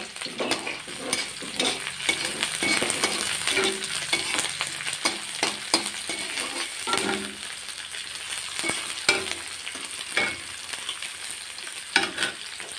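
Onions and green chilies frying in a pan on a gas stove, a constant close sizzle with intermittent stirring scrapes, no voices.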